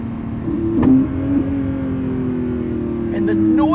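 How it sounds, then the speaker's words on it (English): Lamborghini Revuelto 1,001 hp V12 engine accelerating, a loud close drone that rises in pitch with a brief surge near the start and holds steadily, with faint extra mechanical whines near the end. "And the noises from this V12, that's enough to wake me up on its own."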